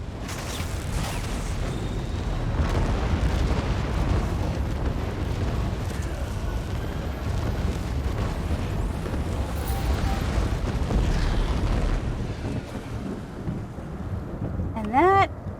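A Dark Anchor event in Elder Scrolls Online gives off a loud, continuous rumble with creaking mechanical churn and a windy roar. Near the end comes a brief rising tonal swoop.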